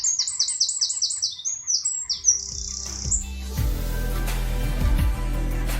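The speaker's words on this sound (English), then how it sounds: "the birds are singing. I thought I'd record them a bit for you just at the end of this podcast." Spring birds sing in quick, repeated high chirping phrases, close and clear at first, before a steady low rumble and clatter build up underneath and mask the song.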